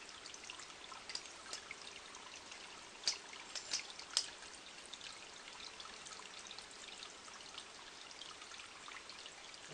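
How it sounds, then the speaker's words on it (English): Water trickling into a pipe at a log home camp, a faint continuous dribbling wash with a few small drips and splashes, no talking. "We're getting water in the pipe"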